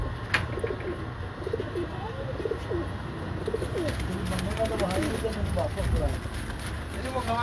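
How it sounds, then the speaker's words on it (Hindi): Durre pigeons, a cross of Ferozpuri and Kasuri breeds, cooing in soft repeated calls close by over a steady background hum, with someone talking throughout. "ये दुर्रे कबूतर जो कि फिरोजपुरी और कसूरी कबूतरों के क्रॉस से"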